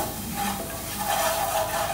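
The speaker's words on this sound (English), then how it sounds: "So oil in here. I'm just going to toss the onions in here." Onions tossed into hot oil in a pan for homemade tacos give a steady, close frying sizzle with light stirring scrapes, running evenly throughout without speech.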